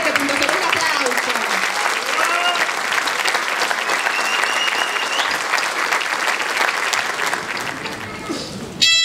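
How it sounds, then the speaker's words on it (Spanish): At an awards ceremony, the audience applauds in a loud, continuous roar of clapping that runs the full length. Cheering voices mix in throughout, and it eases slightly near the end. "¡Un aplauso!"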